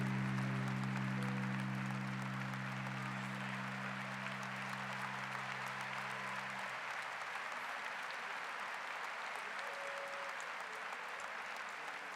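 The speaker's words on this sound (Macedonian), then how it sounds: "Аплауз за Григор Копров!" An awards-ceremony audience applauds lifetime-achievement honoree Grigor Koprov at the Zlatna Bubamara 2019 event, dense sustained clapping filling the hall, with a fading musical chord beneath it for the first several seconds.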